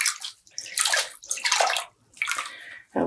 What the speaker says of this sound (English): I'm just going to squeeze some of the water out.